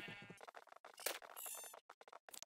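Sheep bleating in Minecraft, several short nasal bleats in quick succession with brief gaps, close and clear with no talking.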